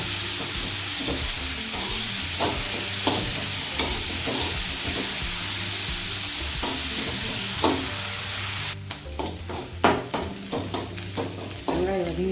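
Onions sautéing in a pan for cauliflower rice, a steady sizzle with repeated scraping stirs that grow louder and more broken near the end, with no talking.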